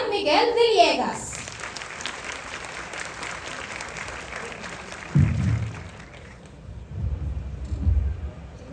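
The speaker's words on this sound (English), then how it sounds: "A round of applause please for Juan Miguel Villegas." Scattered audience applause at a high school graduation ceremony for the class's top graduating student, fairly soft and distant, with a few voices and a brief louder burst near the start before it thins out.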